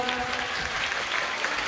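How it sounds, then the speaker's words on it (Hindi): Children at a kids' religious class camp in Indore clap together in a steady, dense burst of applause lasting under two seconds. "बजाओ ताली जोरदार।"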